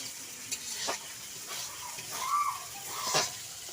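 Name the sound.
poultry meat being cooked in a pan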